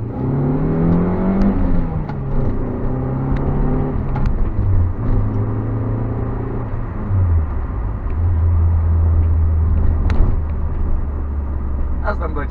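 A petrol Hyundai Coupe RD2 with a 2.0-litre, 140-horsepower engine rumbles steadily, its revs rising and falling in a few swells, loud and close throughout without speech.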